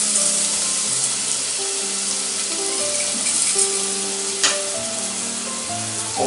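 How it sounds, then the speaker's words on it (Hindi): Garlic paste sizzles in hot oil with curry leaves on medium heat while cooking lauki chana dal, a steady crackling fry that runs close throughout, with faint clatter and some background musical tones. "और 1 टीस्पून डालेंगे ये लहसुन का पेस्ट"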